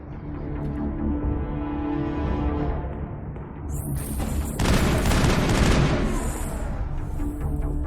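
Assault rifle fire in Mass Effect: sustained, rapid bursts blended with a droning battle background, growing louder and harsher midway through as the shooting intensifies, with no talk.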